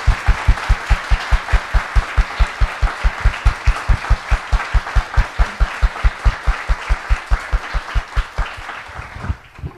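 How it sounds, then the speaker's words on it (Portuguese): A seated audience at a talk on transsexuality claps in steady, synchronized rhythm for nearly ten seconds, strong and close, before the clapping stops abruptly. "Uma salva de palmas a ela."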